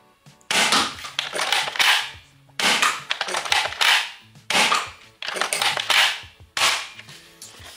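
A Nerf Zombie Driller toy blaster fires foam darts in a series of sharp snapping shots at a steady pace, each followed by a short rattling whir, close and loud with no talk.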